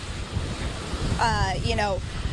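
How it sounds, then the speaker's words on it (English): Storm surf driven by hurricane-force wind crashes against a railing and shoreline, a steady loud roar of wind and water with continuous broadband rumble; a voice with tonal speech rises briefly over the noise midway. "making those waves crashing against the railing and the shoreline even worse"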